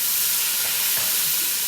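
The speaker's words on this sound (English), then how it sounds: "Sizzle, ladies and gentlemen." Celery and onion mirepoix sizzles in a hot pan, a loud, steady broadband hiss of frying with faint soft crackles and no pauses.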